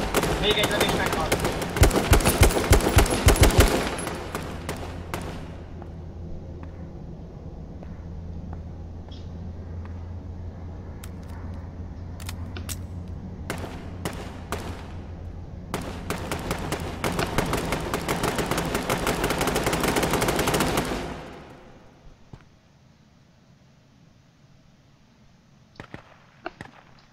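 Gunfire in the video game DayZ: several bursts of shots over a steady rumble, loud at the start, with more scattered cracks further on, while players talk throughout.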